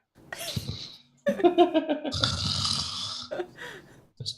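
A voice imitates loud, rasping snores, a few drawn-out snorts and gurgles with short pauses between them, close and exaggerated.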